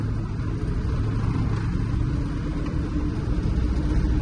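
A 1970 Dodge D500 dump truck, back running after five years parked, drives along with a steady low engine rumble and drone, loud and close throughout with no talking.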